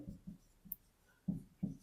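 Pen or pencil writing on paper during a math graph lesson, a few short scratchy strokes in bursts, close and quiet with no talking.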